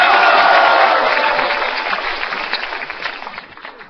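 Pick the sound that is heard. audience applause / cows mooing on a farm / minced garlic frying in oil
audience applause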